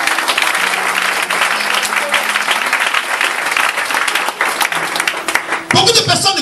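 A church congregation applauds in a sustained, loud wash of clapping that continues throughout, with a voice sounding over the crowd near the end.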